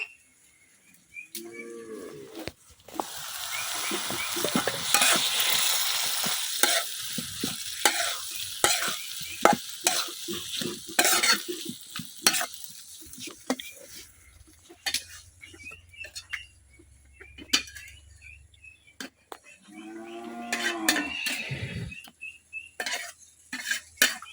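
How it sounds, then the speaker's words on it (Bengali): Chopped tomatoes frying with spices for a koi fish curry in a village kitchen, close crackling sizzle that swells and fades, broken by frequent sharp clinks of a utensil on the pan, with brief bird calls in the background. "এখন ডাইকা মশলার সাথে টমেটো কিছুক্ষণ কষাই নেম।"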